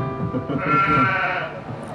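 One sheep's bleat, a wavering, nasal cry close by, rising out of a busy background and lasting about a second.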